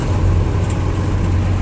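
A 1991 Dodge Ram 250 with a Cummins turbodiesel engine runs while driving, giving a steady, loud low rumble with continuous road noise and no voices.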